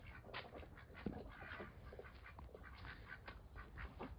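Two black drakes fight among ducks in a farmyard, giving repeated quacking and scuffling squawks that are fairly close but quiet, with no talk.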